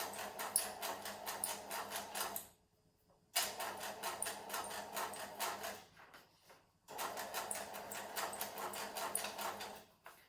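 A sewing machine stitching a curve runs in rapid, steady bursts of needle clatter, stopping briefly twice for pivots before resuming, close and fairly loud with no voices.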